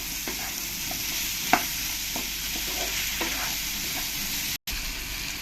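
Potatoes stirred and sautéed with spices in a pan, a continuous sizzle broken by scattered scraping stirs and one sharper knock, no voices.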